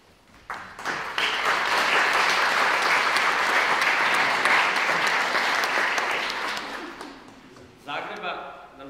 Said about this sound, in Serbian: pozdravimo jednom aplauzom